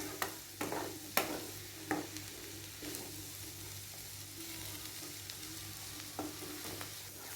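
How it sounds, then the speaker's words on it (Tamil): Fresh green lima beans fry with masala and coconut in a pan, giving a steady soft sizzle broken by several clattering scrapes of stirring, fairly quiet and close. "மொச்சையை இந்த மசாலாவோட நல்லா ஃப்ரை பண்ணி எடுத்துக்குவோம்"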